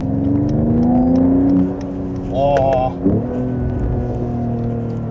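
A 2023 Mercedes-AMG E53 in Sport Plus mode drones with a steady engine and exhaust note from inside the cabin, swelling briefly as it pulls, while a man exclaims over it.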